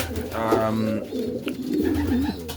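Young racing pigeons cooing close by in a loft, soft warbling calls rising and falling, one bird after another with little pause.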